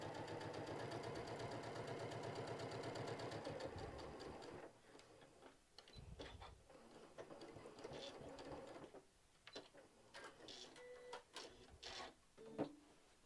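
A sewing machine stitches around the edge of a quilted mug rug with a steady, rapid mechanical whir for about four seconds, then stops, giving way to quiet ticks, clicks and handling noises.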